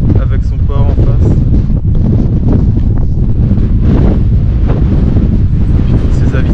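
Strong sea wind at Cape Town buffets the microphone with loud continuous roaring gusts, with a voice faintly audible beneath the rumble.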